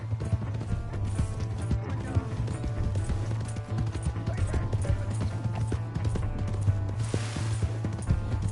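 A horse gallops in Red Dead Redemption 2, hooves pounding in a quick, continuous clip-clop that stays loud and close over a busy game background throughout.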